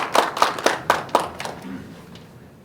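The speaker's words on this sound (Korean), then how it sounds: "큰 박수로 맞이해 주시기 바랍니다." An audience at a Korean regional policy forum claps to welcome the keynote speaker, a short, sparse burst of about eight distinct claps that fades out within two seconds.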